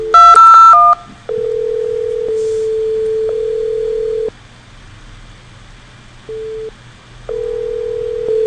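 Rapid touch-tone beeps open as an IP phone in a Cisco voice lab dials extension 2002. Long steady call-progress tones follow, broken by gaps and a shorter tone, all clear and close.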